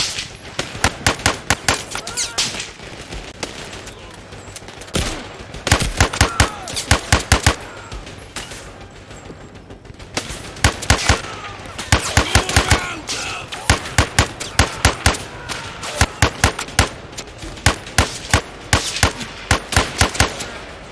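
Bursts of automatic gunfire and single shots crack repeatedly in the video game Zero Caliber, loud sharp volleys clustered in rapid rhythmic runs with short pauses, continuing throughout.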